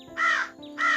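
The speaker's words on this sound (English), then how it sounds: "It's a raven." A raven gives two harsh, rasping caws spaced about half a second apart, loud and close against a quiet background.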